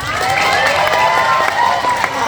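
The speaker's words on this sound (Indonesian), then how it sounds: "Tepuk tangan untuk perempuan." Crowd at a religious gathering claps and cheers steadily at moderate level, with a murmur of voices mixed into the applause throughout.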